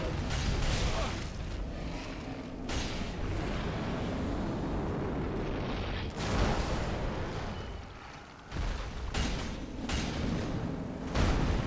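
A Fire Demon boss explodes in Dark Souls 3, and a dense, roaring rumble with repeated heavy bursts carries on steadily for about twelve seconds, loud and close, with no voices.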